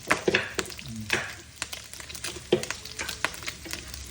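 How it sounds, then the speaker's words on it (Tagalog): Garlic and onion sautéing in hot oil in a pan, a close, steady sizzle broken by repeated scraping and clacking strokes of a utensil stirring, with no voices. "Magigila tayo ng bawang sibuyas."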